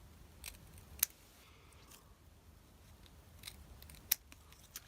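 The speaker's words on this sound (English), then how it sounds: "And just cut off these tabs." Scissors snipping tabs off paper die-cut pieces for a 3D holiday vignette card, heard as a few quiet, close, crisp cuts with two sharp clicks spaced apart and faint handling in between.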